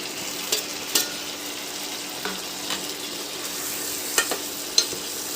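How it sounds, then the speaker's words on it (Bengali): Potato, pointed gourd and shrimp fry with spices and green chillies in a pan, giving a soft, steady sizzle broken by a few sharp spatula scrapes and taps. "আলু পটল চিংড়ি মাছ মশলার সাথে একটু ভালো করে কষে নেব"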